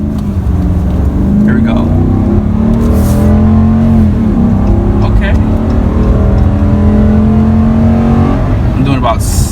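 2019 RAM 2500 Heavy Duty Tradesman diesel truck with an 8-speed transmission accelerating hard, a loud, close engine note climbing steadily in pitch under continuous throttle, with brief talk from the driver over it.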